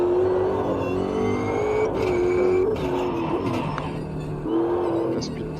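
A race car engine in the Automobilista 2 sim game revs and accelerates, a loud, continuous tonal drone that shifts pitch as the throttle changes, with brief breaks that suggest gear shifts.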